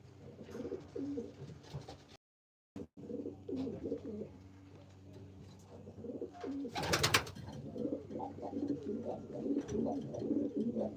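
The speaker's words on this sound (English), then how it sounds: "How are those pigeons of yours?" Pigeons coo in a breeder loft, soft repeated throaty calls from several birds overlapping near and far, with a short dropout early on and a brief flutter of wings midway.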